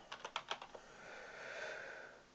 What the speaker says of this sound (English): I'll just type Saxton for this